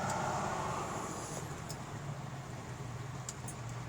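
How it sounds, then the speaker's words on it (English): A 1963 Ford Galaxie 500 with a stroked engine drops into second gear, its deep, steady exhaust rumble droning continuously up close with no talk over it. "Downshifting into second right now."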